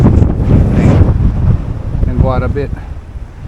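Strong wind gusts buffet the microphone on a Jamaican shoreline, a loud, steady roar, with a voice speaking briefly under it.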